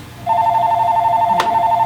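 A telephone rings inside a military collectibles shop, a loud, steady electronic tone that starts abruptly and holds continuously, with a brief click partway through.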